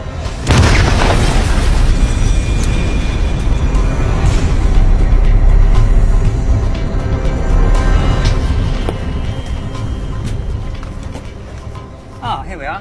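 An explosive squash-head charge set to blow the roof off a house detonates with a sudden loud boom near the start, followed by a long rumbling roar of blast and falling debris that slowly fades.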